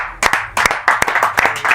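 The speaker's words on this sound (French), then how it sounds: "Applaudissements pour Obidi, s'il vous plaît" Applause from a crowd, a burst of clapping with several sharp individual claps standing out, steady and fairly close.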